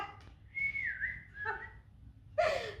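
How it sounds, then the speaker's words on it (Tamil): A person whistles in celebration at a family birthday gift unboxing, a few rising and falling tones followed by a sharp loud burst, clear and close. "விசில் அடிக்கடா"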